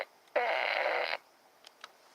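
A single loud, buzzy fart noise lasting under a second, close and alone, followed by a few faint clicks.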